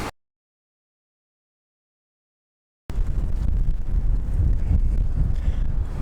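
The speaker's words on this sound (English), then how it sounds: "But it is windy." Wind gusting outdoors buffets a microphone with a loud, steady low rumble, starting abruptly after nearly three seconds of silence.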